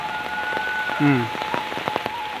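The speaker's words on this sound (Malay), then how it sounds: "Hujan bertambah labek sana ya." Steady rain pattering on surfaces in a village during the rainy season, a dense continuous hiss with louder close drips and a brief voice-like tone in the middle.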